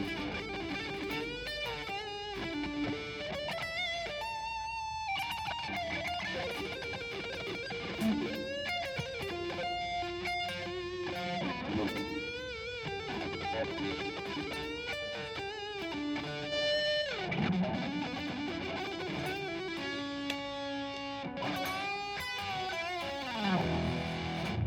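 An ESP LTD F-50 electric guitar on its neck pickup, through a fairly mild distortion, plays a continuous run of ringing notes and chords, loud and close, with no talking over it.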